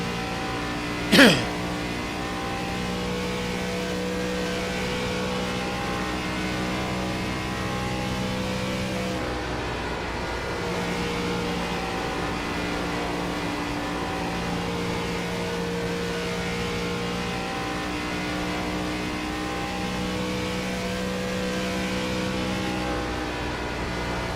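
An ARCA stock car's engine in an iRacing-style simulator at Chicago holds a steady, continuous drone at even volume for the whole stretch, with a brief sharp burst near the start.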